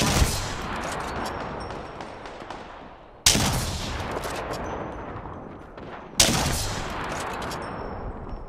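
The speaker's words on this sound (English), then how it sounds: "They're shooting!" Three heavy gunshot bursts from Apex Legends, each loud blast cracking sharply and then trailing off in a long reverberant decay before the next, spaced about three seconds apart, with no talking.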